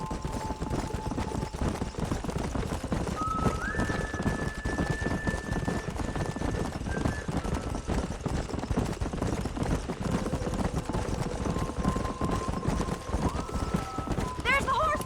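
Horses gallop across open country in the Red Dead Redemption video game, a steady fast clip-clop of hooves running continuously, with occasional distant gunfire and a whinny mixed into the ambience.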